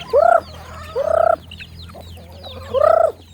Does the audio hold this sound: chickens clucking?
yes